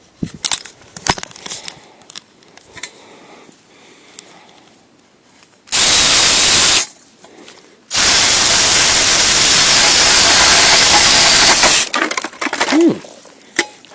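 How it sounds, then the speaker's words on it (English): A loud, harsh drilling roar of an ice auger in two bursts, a short one then a longer sustained run, with quiet handling noises before and after. "But I'm going to do a quick drill."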